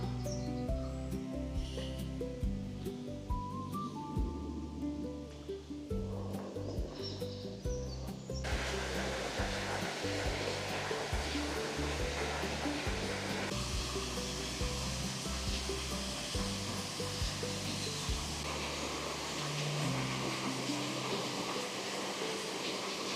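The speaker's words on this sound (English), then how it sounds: "so that's the weir there, tumbling weir they call that" Water tumbles over a weir on a countryside walk, giving a continuous broadband rushing roar that grows louder partway through, heard close and steady with no talking.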